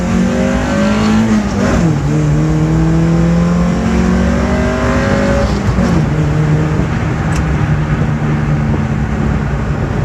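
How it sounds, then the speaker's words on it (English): A Mazda Miata with a new aftermarket exhaust revs hard and loud, pitch climbing and dropping through repeated high-RPM pulls, with a raspy sports exhaust tone throughout. "It's time to talk about this exhaust. I love the way it sounds."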